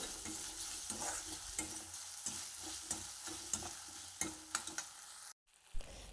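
Ginger garlic paste and chopped tomato fry in a pan with a steady sizzle, broken by repeated spoon scrapes and stirring knocks, then a short drop to near silence before the frying resumes.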